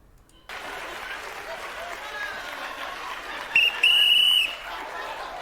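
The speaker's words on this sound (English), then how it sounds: "Then there's the shock and awe with the whistle." Sharp whistle blasts on a TV game show, two short shrill bursts rising over a steady bed of applause and studio crowd noise.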